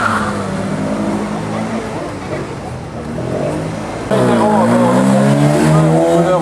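An Alpine A110 race car, number 2, runs a historic hill climb with its engine roaring loudly throughout and jumping louder near the end, while a commentator talks over it.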